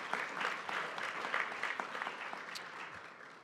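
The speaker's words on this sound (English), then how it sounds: "Yeah, you can clap." Quiet audience clapping at a sustainability talk on Tampa Bay water quality, a soft, fairly even patter of many hands heard from a distance that fades toward the end.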